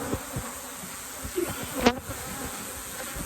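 Honeybees from an aggressive hive swarming close around the microphone during a spring hive inspection, a constant buzzing hum with individual bees zipping past and brief louder passes near the mic.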